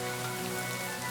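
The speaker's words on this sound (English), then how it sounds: "Yeah, rain sucks." Rain falling in the video game Kingdom Come: Deliverance 2, a brief, even hiss of drops on surfaces with no other sounds standing out.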